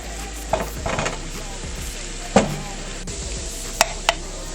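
Tomato paste being stirred in a pan for creamy spaghetti with salt, chili flakes, parsley and cream cheese: gentle sizzling with a few sharp spoon taps and scrapes, close and soft, no talking.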